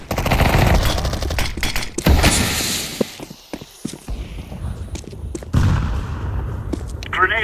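Counter-Strike 2 gameplay with thrown grenade and flashbang effects amid loud gunfire bursts, sharp impacts and footsteps, with in-game voice callouts over the action.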